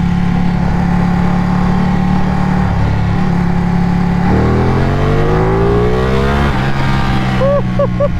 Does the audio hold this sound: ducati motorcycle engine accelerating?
yes